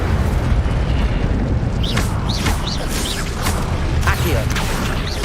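Incendio fire spell in the Hogwarts Legacy video game, a sustained loud roaring, eruptive whoosh with repeated crackling bursts and rising chirps scattered over several seconds.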